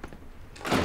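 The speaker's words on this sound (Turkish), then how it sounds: "Kapatsana şu kapıyı kardeş." A door swings shut with a dull thump indoors, one brief close solid impact after a short stretch of quiet room tone.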